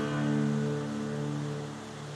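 Rushing water at the foot of a small river waterfall at night, heard as a steady, broad wash of noise from nearby with no voices.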